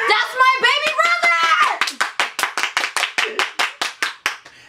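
A small group claps for a shirt, first under excited shouting and cheering voices, then sharp, evenly spaced hand claps ring out loud and close, about a dozen in steady rhythm.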